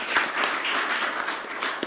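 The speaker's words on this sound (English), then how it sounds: "you can clap for her, we're so proud" An audience at a school governing board meeting applauds a first grade teacher from Rio Vista Elementary School receiving a recognition award, a steady, fairly close wash of clapping lasting the full two seconds with a few sharper claps near the end.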